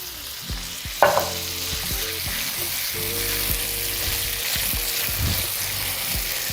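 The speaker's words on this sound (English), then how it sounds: "So now I'm going to add my W sauce" Worcestershire sauce, about a tablespoon, hits a hot pan of green beans, setting off a sudden loud sizzle that settles into steady frying with light stirring and clinks.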